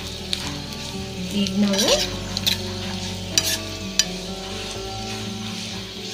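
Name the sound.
sizzling frying in a pan, poppy seeds added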